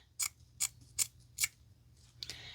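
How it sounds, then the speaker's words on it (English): Scissors slide under the back of fabric and snip it in four crisp, evenly spaced cuts, then one lighter snip at the end, close and clear in a quiet room. "you slide the scissors right up under the back of the fabric and you cut just the back of the fabric"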